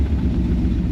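A warm V8-style car engine catches and settles into a steady idle, a low continuous rumble heard close with no talking over it.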